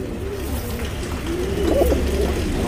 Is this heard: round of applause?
no